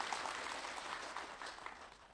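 An audience at an Islamic religious talk gives a faint, steady round of applause, heard quietly from a distance.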